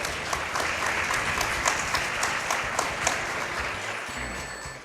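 Audience applause at Summer Games Done Quick during a Sonic the Hedgehog 2 speedrun, a dense, steady wash of clapping from a large crowd that holds loudly throughout and thins slightly near the end.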